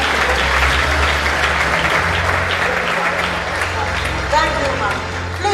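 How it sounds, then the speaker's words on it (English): A lecture audience applauds the lecturer in a steady, loud round of clapping from a large hall crowd, with a low hum and faint voices under it. "can we just do a final clap for our lecture?"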